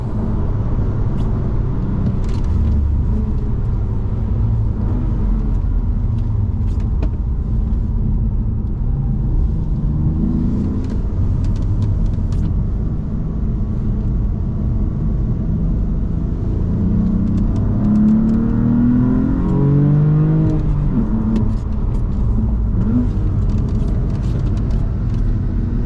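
A BMW F80 with upgraded suspension laps a wet Anglesey Circuit, its engine droning loudly from inside the cabin with rising and falling revs through the corners and occasional surges of acceleration.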